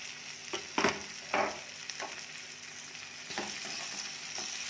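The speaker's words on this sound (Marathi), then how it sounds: "कांद्याचा रंग बदल्यापर्यंत छान भाजून घेऊया कांद्याचा रंग बदललाय कांदा भाजला की यामध्ये टाकूया टोमॅटो" Onion and tomato frying together in a pan: a soft, steady sizzle under a few sharp scraping strokes of the spoon early on, close and fairly quiet.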